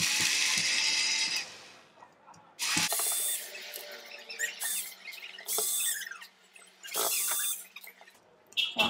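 A cordless screwdriver whirs in several short bursts while it backs hinge screws out of an MDF tea box, with a rattling, ratchet-like motor sound and brief quiet pauses between the runs.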